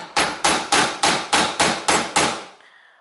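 Seven sharp, evenly spaced hammer blows strike a knife wedged into the cover plate of a BMW electric engine coolant pump, each a loud close metallic knock, with no talk.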